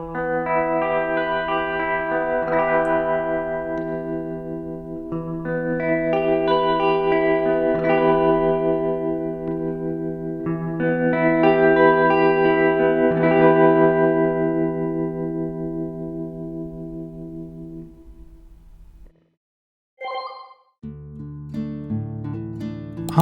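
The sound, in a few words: guitar with vibrato and reverb in Studio One Ampire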